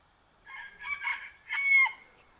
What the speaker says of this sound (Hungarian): A kakasok is hozzájárulnak, ehhez a véleményükkel.